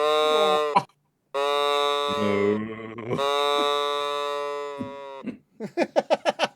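A cow mooing sound effect, long loud drawn-out moos with a brief gap between calls, ending in a quick series of short pulsing moo-like bursts.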